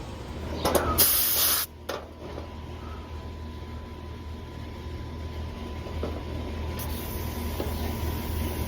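Refrigerant gas hisses steadily into a central AC system at 11 PSI, a continuous faint hiss lasting several seconds after a few brief louder bursts at the start.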